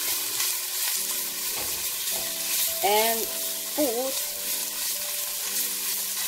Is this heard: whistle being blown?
no